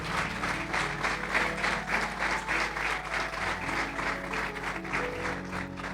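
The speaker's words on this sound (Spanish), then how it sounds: "Dale un aplauso al Señor" A church congregation breaks into sustained, loud applause, a thick continuous wash of clapping hands that holds steady throughout with faint voices beneath.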